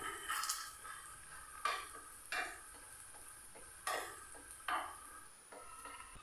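Slices of egg and potato snack sizzling as they are set into hot oil, with steady low frying hiss and several distinct clinks and scrapes from a utensil against the pan at irregular intervals.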